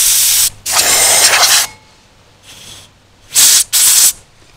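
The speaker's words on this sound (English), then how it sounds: "air hose." Compressed air hose blasting dust out of a freshly drilled hole in concrete, in two long hissing bursts, a soft short puff, then two more strong close bursts.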